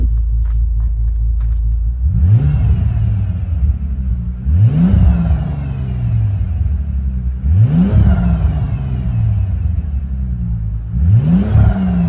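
A deep W12 engine in a 2005 Bentley Continental GT idles, then revs up sharply four times in a row, each rev rising and settling back into a loud rumble.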